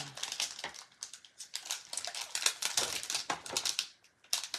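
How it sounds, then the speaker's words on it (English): A rubber stamp pressed onto a paper envelope during a paper-craft project, a quick series of close, crisp taps and paper rustles with brief pauses between them. "on the envelope, we will stamp happy"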